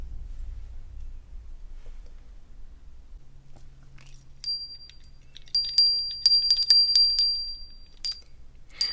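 A small, beautiful little bell rings in a few bright, scattered tings in the second half, with a faint soft rustle underneath; otherwise quiet.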